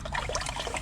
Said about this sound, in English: make sure you have your drain pan underneath to catch all the oil